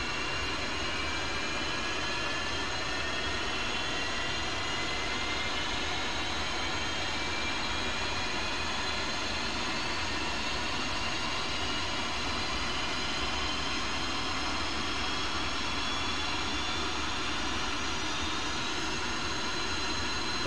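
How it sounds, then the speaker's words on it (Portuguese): Jet engine of an F-5E fighter in a DCS flight simulator spooling up, a steady, loud turbine whine and roar that holds constant with no voices. "Aperta o botão do motor direito e eleva a manete da direita."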